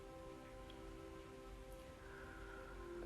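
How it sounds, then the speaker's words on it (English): Steady rain falling outside, a soft continuous hiss of drops on surfaces heard from indoors, faint and even throughout with no voices. "It's a really steady rain right now outside too."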